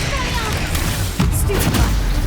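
A Stupefy spell cast in a wizarding video game, a loud booming burst with a crackling crash that hits partway through over a dense, noisy battle bed.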